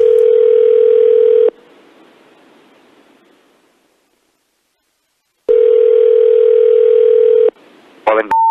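A telephone dial tone while phoning a hotel in America: two long steady tones separated by a stretch of near silence, followed by a short burst of beeping and the start of another tone.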